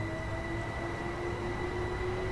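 A steady electric motor whine hums from a train in Train Sim World 2020 on the East Coastway, holding a constant pitch over a continuous low rumble of running gear.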